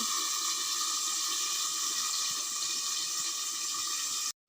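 Water is poured from a vessel over pieces of taro in a pan before boiling, a steady close splashing stream that runs for a few seconds and then stops abruptly.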